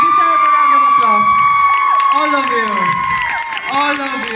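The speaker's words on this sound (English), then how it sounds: "You deserve a round of applause." Audience at a street dance event cheering, whooping and clapping, a loud, dense crowd roar with shrill shouts and steady applause throughout.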